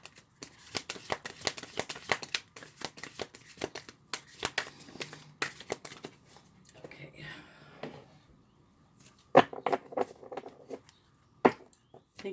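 A deck of oracle cards is shuffled for a reading, with quick riffling and slapping bursts, a soft voice murmuring between them, and a few sharper card taps near the end.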